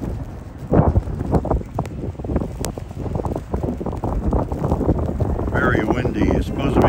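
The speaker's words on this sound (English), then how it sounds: "Very windy." Strong snowstorm wind buffets and roars across the microphone in continuous gusts at a Metra station in Hinsdale, with a muffled rumble and occasional louder bursts.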